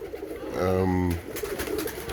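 Pigeon coos from an older hen in a Roller pigeon kit in a loft, one rolling harmonic coo near the middle over a steady background murmur of the loft.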